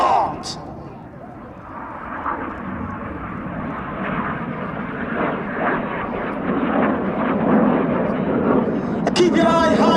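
Red Arrows jets roar through the Synchro Rolling Heart at the Duxford Battle of Britain Airshow 2023, a rising, sustained jet rumble that swells toward the end, with a commentator speaking over it.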